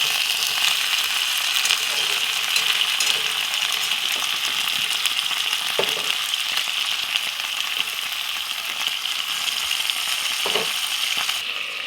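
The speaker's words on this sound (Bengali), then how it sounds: "এবার আমি ভালো করে কষিয়ে নিয়ে দিয়ে দেবো আমি লবণ।" Food sautés in a pan, a continuous loud frying sizzle over twelve seconds with a few faint clicks of a spoon or spatula, close up, with no voices.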